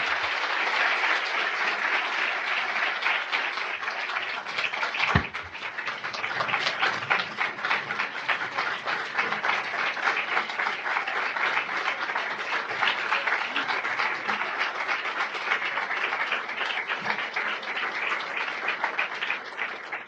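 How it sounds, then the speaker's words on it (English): A large audience at Children's National gives a long, warm round of applause for Sri Sri Ravi Shankar, dense continuous clapping holding steady throughout with a brief louder knock partway through. "let's hear a very warm round of applause for Sri Sri."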